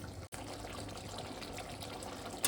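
Boiled hilsa fish curry is poured out of the pan, a steady wet rushing flow with a brief break near the start, close and fairly quiet, with no talking.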